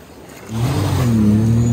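A small supercharged mini jet boat engine idles quietly, then revs up abruptly into a steady, loud droning whine that holds for the rest of the clip.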